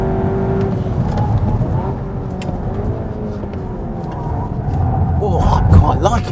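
A SEAT Leon Cupra 280 hot hatch driven hard on a race track, its engine droning loud and close with steady revs that swell near the end, continuous throughout.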